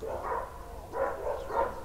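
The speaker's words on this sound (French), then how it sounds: "Oh les chiens!" Dogs bark nearby at a building worksite, three separate bursts of barking about half a second apart, moderately loud against a low background hum.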